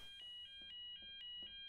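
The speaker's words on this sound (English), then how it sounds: "You see the new alarm?" Fire alarm in a Garry's Mod Star Wars roleplay server, a faint electronic tone pulsing in rapid repeated beeps with short clicks between them, heard alone.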